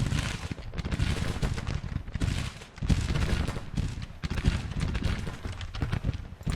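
Musket and artillery fire rolls across a mountain-pass battle in the Grand Tactician: The Civil War strategy game, with dense crackling volleys and repeated heavy bursts sounding continuously at moderate loudness, without speech.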